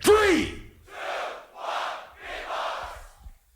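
At the Grand Beatbox Battle 2025 World League, the crowd roars together in three loud, evenly spaced swells after a voice calls out at the start.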